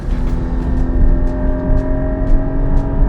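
2020 Porsche 718 Cayman GT4 with its 4-liter engine revving loudly from inside the car, a strong steady tone rising and falling with shifts, close and sustained, no speech.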